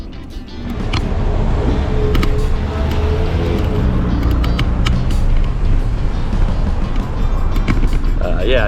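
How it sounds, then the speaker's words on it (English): Steady road traffic near a trail beside a busy commercial street, with cars passing in a continuous close wash of tyre and engine noise, and people talking over it. "traffic here is something to be considerate of"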